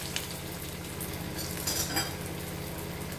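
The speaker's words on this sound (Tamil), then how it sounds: "ஒவ்வொரு பீஸாக எண்ணெயில் போட்டு லேசாக ஃப்ரை பண்ணி" Cauliflower pieces fry in hot oil over medium heat for a gravy, giving a steady close sizzle and bubbling with a few faint clinks of a utensil.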